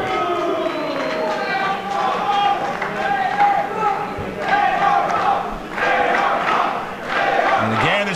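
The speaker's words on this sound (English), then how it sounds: "this crowd getting behind Fox" At a wrestling match, an arena crowd cheers and shouts for a wrestler in surges that swell and ease several times. The loud, massed roar runs under an excited commentator's voice.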